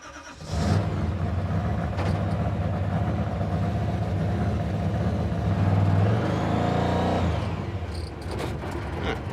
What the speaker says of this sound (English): the throttle is sticking, or at least the thing's idling way too fast now